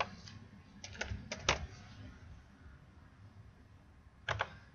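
A few quick keystrokes on a computer keyboard in a library database session, soft nearby clicks in short clusters separated by pauses, with no talking.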